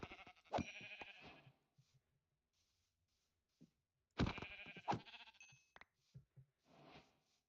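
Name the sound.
sheep bleating in Minecraft-style video game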